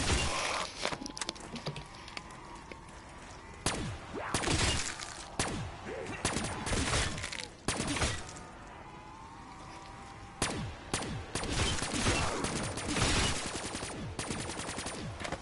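Rapid gunfire tears through zombies in a video game, with loud, close bursts of shots and brief pauses between volleys over a busy background.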